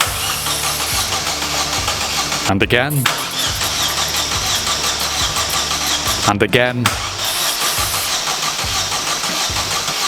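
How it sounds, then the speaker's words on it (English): A Vauxhall Corsa VXR engine cranks twice in close, loud bursts, each rising into an irregular starter whir without catching, over a steady mechanical background while someone speaks briefly. "Then we went to start the engine up again."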